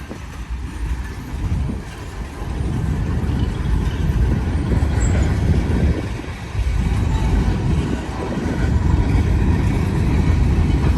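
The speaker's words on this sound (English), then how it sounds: "There's only one thing that beats a train going by, and that would be two trains." A CSX freight train of boxcars rolls steadily past a three-track railroad crossing near a depot, a loud continuous low rumble of wheels and cars heard up close, with wind buffeting throughout.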